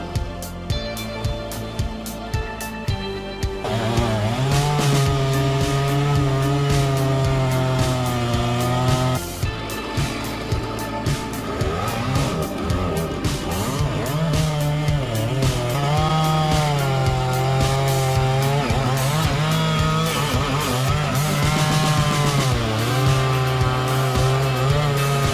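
A big chainsaw cuts through a tree trunk during logging, its engine loud and close with a revving, wavering drone that rises and falls over the whole stretch, briefly dipping before roaring again.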